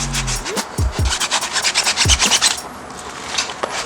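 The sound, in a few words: sanding the rear main seal cover with sandpaper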